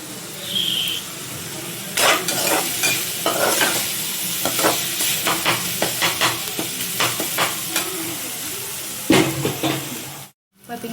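Sautéing in oil with steady sizzling under repeated scraping and stirring strokes of a utensil against the pan, ending in a brief silence.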